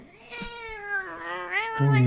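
A cat meows in a long, drawn-out wail with a rising and falling pitch, close by, followed by a brief low hum at the end.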